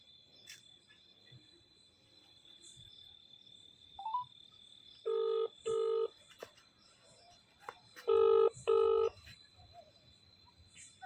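Telephone keypad tones ring out in two bursts of paired beeps, each pair loud and steady, over a quiet outdoor background with chirping insects on a farm.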